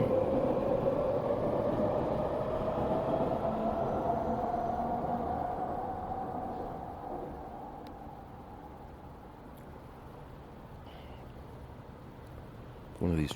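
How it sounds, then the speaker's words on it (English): A train rolls along the tracks with a steady rumbling roar and a faint whine that slowly recedes and fades, while voices are heard over it. "One of these trains falls off the tracks"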